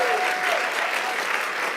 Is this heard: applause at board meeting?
yes